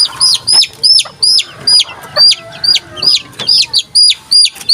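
Gamefowl sick with coryza give repeated short clucking calls, several birds close by in a rhythmic series of sharp, loud vocalizations with quiet gaps between them.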